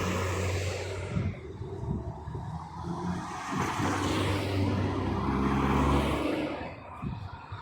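A motorcycle passes on a busy street with food stalls, its engine rising and falling as it goes by amid other traffic rumble over several seconds, with no talking.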